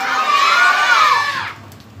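A church congregation claps and cheers loudly for the pastor in a dense burst lasting about a second and a half, then the sound drops away to quiet room noise.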